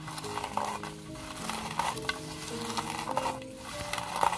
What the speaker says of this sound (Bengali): শুকনা মরিচটা ভালোভাবে ডইলা নিচ্ছি